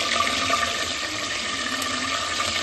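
Curry leaves dropped into hot oil for a fish curry make a loud, steady, broadband hiss that stays even throughout.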